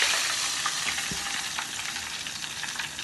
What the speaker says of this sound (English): What we should do is let it fry and then sort of like turn.